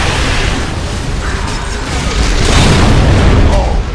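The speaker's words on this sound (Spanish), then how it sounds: "En cuanto enciende el motor, sube el elevador." In the Gears of War 3 game, an engine starts and an elevator rises, a loud, dense mechanical roar of grinding, clanking machinery and booming rumble that continues throughout.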